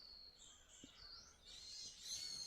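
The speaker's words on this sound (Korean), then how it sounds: "교래숲인데 새소리 너무 아름답습니다." Birds sing in Gyorae forest on Jeju, giving faint, distant high chirps and whistled calls that build toward the end over quiet forest ambience.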